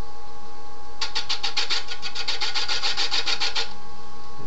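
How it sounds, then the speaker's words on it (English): Wood lathe at about 500 RPM cleaning up the foot of a large dried wooden serving bowl, a fast run of rhythmic rasping scrapes lasting under three seconds over a steady machine hum. "I'm going to go ahead and turn the lathe on."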